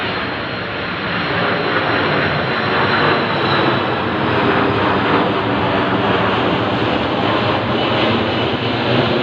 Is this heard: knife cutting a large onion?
no